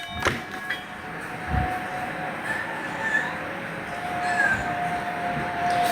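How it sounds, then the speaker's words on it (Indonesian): A cat meows a few times indoors, its short mewing calls rising over a constant background hum with scattered knocks and rustles and no speech. "Ini kucing Jangan kau di sini."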